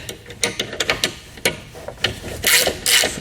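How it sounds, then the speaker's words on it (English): A 1/2-inch socket wrench tightens load stop bolts on a truck bed ladder rack. Rapid ratcheting clicks come in short bursts near the microphone, followed by louder, rougher scraping strokes. "you'll grab a 1/2-inch socket, a wrench, and just tighten those down"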